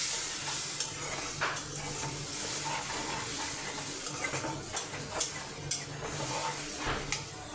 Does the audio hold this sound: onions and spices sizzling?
yes